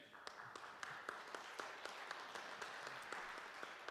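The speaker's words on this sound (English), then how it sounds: "we need to applaud all the help we've had." Church congregation at a Sunday morning service applauding, a steady wash of many hands clapping at once with sharp individual claps standing out, moderately loud in a reverberant room with no talk.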